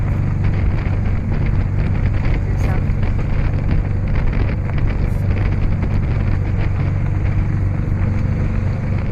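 Steady wind buffets a sailboat's cockpit, a loud, continuous low rumble of gusts on the microphone with faint rustling throughout.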